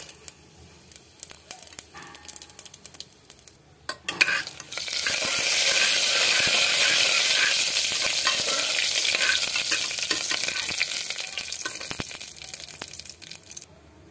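Radhuni, dried red chilies and bay leaves go into hot mustard oil in a pressure cooker, and after some quiet handling noises a loud, close sizzle suddenly erupts and crackles steadily, easing only slightly toward the end.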